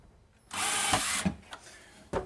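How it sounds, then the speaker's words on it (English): A power drill runs in one steady burst of about three quarters of a second while unscrewing kitchen cabinets for removal, followed by a few short clicks and a brief second whir. "We're unscrewing these cabinets to take them out."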